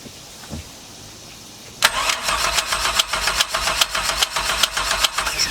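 A V6 truck engine swapped into a MerCruiser ski boat cranks and catches after a quiet pause, then settles into a loud, rough, pulsing idle with a steady rhythmic knock, close by.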